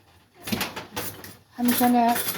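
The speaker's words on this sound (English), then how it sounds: "So let's get these noodles stirred, you guys." Spaghetti noodles are stirred in a cooking pot with a few close clinks and scrapes of utensil against metal, separated by short pauses, and a voice comes in briefly near the end.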